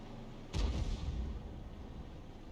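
A G.W. E100 self-propelled artillery gun in World of Tanks fires a single heavy, booming shot, a sharp blast followed by a long rumbling low tail that fades slowly.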